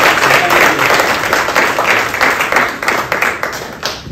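An audience applauds a magician's volunteer at an appreciation event, close and loud, with individual claps audible within the steady applause as it tapers slightly toward the end.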